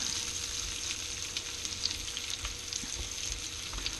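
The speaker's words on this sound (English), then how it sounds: "add the avocado and the mushroom, and we'll kind of just spread those out in the skillet" Avocado and mushroom sizzle steadily in a skillet for a loose omelet, a continuous close frying hiss with faint crackles and occasional soft pops throughout.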